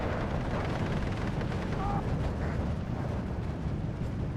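A tank's main gun fires in the WW2 strategy game Steel Division 2, a dull boom lost in a dense, continuous roar of battle noise and distant gunfire.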